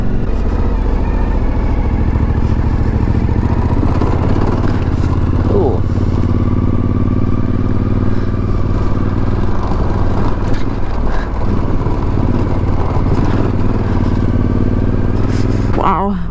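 Motorcycles ride through sand in the Atacama Desert, a steady, loud engine drone with low rumble running throughout, close to the microphone, with brief voices breaking in now and then.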